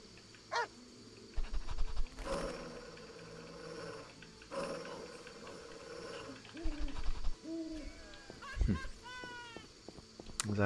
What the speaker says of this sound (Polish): Tu jest pies, jak go zabić?